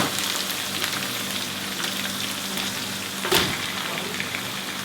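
Garlic, ginger and onion sizzling in a pan for chicken curry, a steady hiss of frying with light crackles and one brief clatter near the end, no talking.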